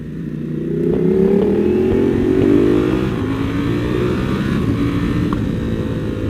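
Custom Ducati Monster 1200 motorcycle engine running steadily and close by while riding, a continuous loud drone rising slightly in pitch early on, then holding steady.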